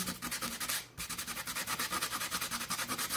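Close, rhythmic rubbing strokes abrade the side layer of a small wooden craft frame to weather it, a steady back-and-forth scratchy swish with a brief pause near the start and no talking.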